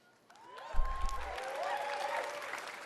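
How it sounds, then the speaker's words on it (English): Audience applause at Bethesda's E3 2018 presentation, a crowd clapping that swells quickly after a brief quiet start and holds as a steady, moderately loud wash, with a faint tone and a low thump near the start. "yes, you can fucking clap, guys"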